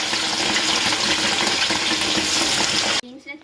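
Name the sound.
chicken pieces frying in oil for pickle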